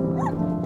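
A dog barks and yips at passing skateboarders, a single brief nearby bark over a steady tonal background hum.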